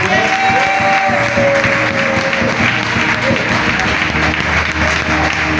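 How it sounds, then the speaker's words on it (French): A church congregation applauding and cheering steadily and loudly, a sustained crowd of clapping with voices mixed in throughout. "on va acclamer le Seigneur"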